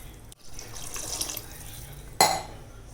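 Water runs and splashes steadily, like a tap pouring into a tamarind mixture, with a sharper gush near the end.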